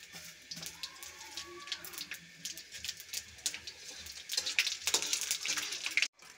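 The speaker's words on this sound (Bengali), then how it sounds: "2টা শুকনো লঙ্কা আর এলাচ, দারচিনি একটু ভেজে নেব" Dried chillies, cardamom and cinnamon crackle in hot oil with bay leaves and five-spice seeds, a faint intermittent sputter with light popping bursts that grow denser toward the end, no talking.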